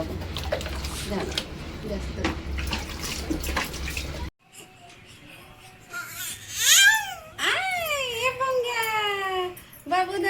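Water splashes and runs steadily in a tub during a small child's bath, continuous for the first few seconds, then a baby cries loudly in rising, wavering wails while an adult talks nearby.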